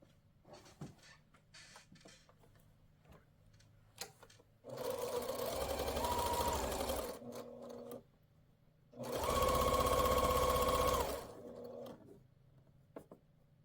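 A sewing machine stitches two folded fabric quilt blocks together in two steady runs of a few seconds each, with quiet handling of the fabric and short pauses between and around them.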